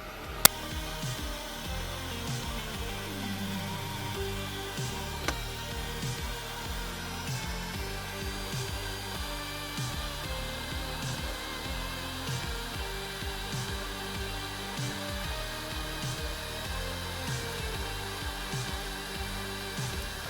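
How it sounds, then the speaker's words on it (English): Heat gun set to 100 degrees blowing hot air onto glue to loosen it while disassembling an Apple II computer, a steady airy whoosh throughout with a couple of sharp clicks, no speech. "I'm just going to try to heat this to see if the glue will come off easier."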